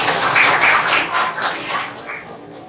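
Children applaud in a classroom: a burst of clapping, fairly close and loud, that fades out over a couple of seconds.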